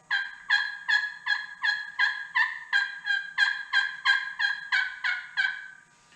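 Slate turkey call worked by hand to imitate a hen turkey, giving a steady run of about fifteen rhythmic yelping notes, clear and close with no voices.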